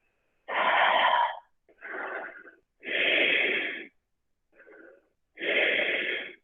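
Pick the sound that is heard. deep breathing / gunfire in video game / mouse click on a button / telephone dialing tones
deep breathing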